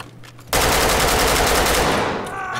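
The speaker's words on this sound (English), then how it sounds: "Let me just shoot him." Gunfire in the tactical police shooter Ready or Not: after a brief quiet moment, a loud, sustained automatic burst erupts and rattles on continuously until the end, tapering only slightly.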